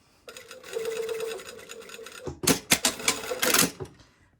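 A domestic sewing machine runs in a steady mechanical whir while stitching a continuous lap sleeve placket on a shirtdress, then slows into a series of clunky, uneven bursts and rattles as the fabric is worked out from under the foot.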